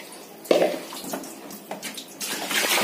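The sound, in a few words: water running off a Persian cat during bath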